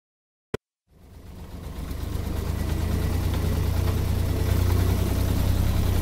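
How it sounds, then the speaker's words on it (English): A taxi car's engine comes in after a brief click and then runs steadily at idle, a low rumbling drone that stays close and fairly loud to the end. "Taxi."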